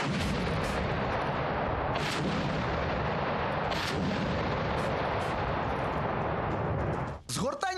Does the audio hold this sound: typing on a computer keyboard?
no